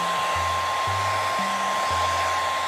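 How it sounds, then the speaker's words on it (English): A blow dryer runs close and loud, finishing off a hat made of box braids, a continuous whirring roar with a steady whine and a low hum that shifts in pitch several times. "So, I'm going to use the blow dryer to finish it off."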